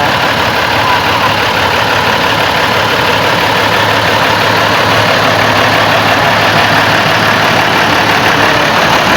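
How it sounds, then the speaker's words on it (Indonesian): A sugar factory lorry train's engine at Madukismo sugar mill runs loud and steady throughout, a continuous heavy rumble and drone with no speech. "Ini kita lagi naik kereta lori guys."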